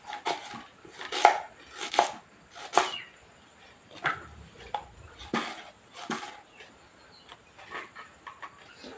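Two large onions being chopped for mutton sambar, a series of sharp, close knife taps on a board in irregular bursts, with no one talking.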